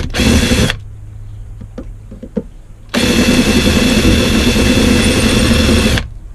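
A power drill drilling into a metal motorcycle silencer whines loudly up close in two sustained bursts, with a quiet pause between them broken by a few small knocks.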